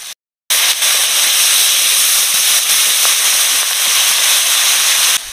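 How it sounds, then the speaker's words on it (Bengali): A masala of chilli powder, chopped green chilli, ginger paste, salt and a little water sizzles and hisses loudly in a pan, a steady close frying roar after a brief gap at the start. "লঙ্কা গুঁড়ো, কাঁচা লঙ্কা কুচি, আদা বাটা, লবণ, একটুখানি জল দিয়ে মশলাটা ভালো করে কষে নেব"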